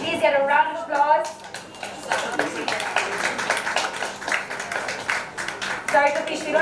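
An audience applauds at a book launch, a burst of mixed clapping that swells in the middle while a voice talks over it at the start and end.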